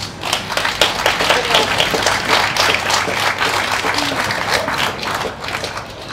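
A live audience applauds the participants of a pumpkin carving contest, with dense, steady clapping that carries on throughout, plus a few voices faintly mixed in.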